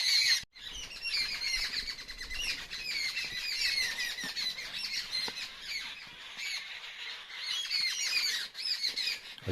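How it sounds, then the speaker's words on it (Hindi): Forest birds call and squawk noisily at dusk, with wild jungle fowl among them, a dense, continuous chorus of overlapping chirps and harsh cries close by, with no talking. "यहाँ पे चिड़िया बहुत शोर कर रही हैं और जंगली मुर्गे बोल रहे हैं।"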